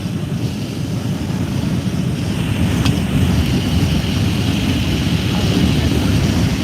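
Strong wind of about 80 miles per hour roars steadily past the microphone during a derecho storm, a loud, unbroken buffeting rush that swells slightly toward the end.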